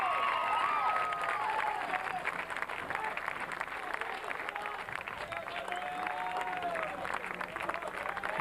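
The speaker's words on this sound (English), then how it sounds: "St. Xavier fans cheering on their team" St. Xavier high school baseball fans cheer and applaud for their team late in a game against Springfield North, sustained clapping and shouts from a distant crowd with faint vocal whoops rising above it.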